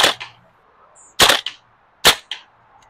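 A VFC HK416A5 gas blowback airsoft rifle fires three loud, sharp reports with echoes, spaced about a second apart, each shot followed by a quick mechanical clack of the bolt cycling, with near silence between shots.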